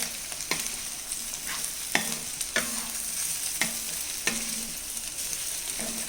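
Boiled Chinese potato (koorka) being stirred in a pan for a stir-fry, soft sizzling broken by a series of regular, sharp spatula scrapes against the pan, close up, with no speech.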